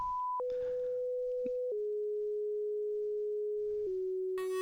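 A synthesizer waveform hard-clipped on both sides with amplitude limited to one volt, heard as a steady buzzy tone that holds and then steps down in pitch several times, close and alone.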